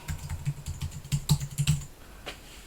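Computer keyboard typing text, a quick run of close, crisp key clicks and taps in an irregular rhythm that tapers off into quiet near the end.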